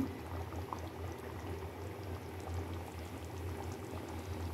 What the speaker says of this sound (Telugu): టోనా ఫిష్ ముక్క చెదరకుండా ఉడికింది